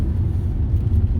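A car passes close by as a heavy, steady low rumble that fills the whole short moment, loud and near, with no voices over it.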